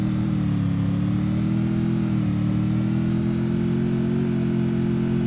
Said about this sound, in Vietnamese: Hẳn là xe máy cơ.